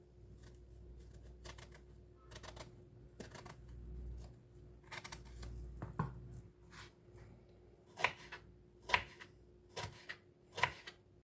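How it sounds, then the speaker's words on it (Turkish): Eggplant being diced into small cubes with a knife, a series of sharp, close chopping taps on a board, irregular at first and then louder, distinct strikes near the end, with no talking. "Şöyle minik minik kare şeklinde doğrayacağız patlıcanlarımızı."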